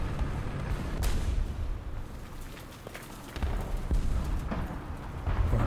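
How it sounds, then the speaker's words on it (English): Artillery fire rumbles in the tank game War Thunder, with dull booms breaking through a dense, continuous roar of battle noise. "Artillery fire coming."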